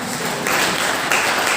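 A church congregation breaks into clapping, a steady broadband patter that swells midway and holds through to the end, moderately loud with no voices on top.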